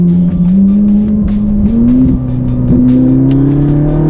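A Ferrari V8 engine revs hard, its pitch climbing steadily with brief dips between gears as it shifts up and downshifts, loud and close throughout.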